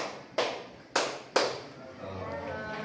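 Three sharp, separate claps in a counted rhythm from a teacher demonstrating a numbered clapping pattern in a classroom lesson, each loud and close, then fading to low room noise.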